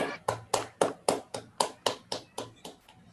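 Audience applause after a talk on an online call, about a dozen distinct claps in a steady rhythm, fairly close and moderately loud with no talking.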